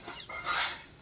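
Dog giving a brief whimpering yelp, a single short, moderately loud vocal burst with no talk over it.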